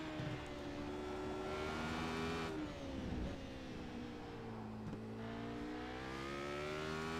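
A Radical race car runs flat out at Road Atlanta, its engine holding a high, steady whine that rises and falls through gear changes and corners, loud and continuous from an onboard perspective.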